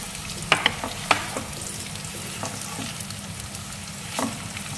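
Meat and golden fried scallions stir-fried in a hot pan, a steady sizzle with a few sharp clinks and scrapes of the utensil against the pan, close and alone with no talk.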